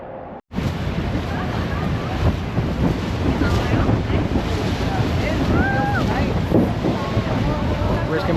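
Niagara Falls roars in a dense, continuous wash of rushing water, heavily buffeted by gusting wind against the microphone, loud and unbroken after a brief cut at the start.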